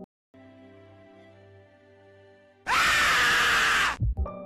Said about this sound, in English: A zombie goes full frame of the camera and screams his lungs out